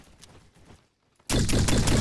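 Gunfire in the Roblox shooter Bad Business, a few soft shots at first, then a short silence before a loud, rapid burst of automatic fire.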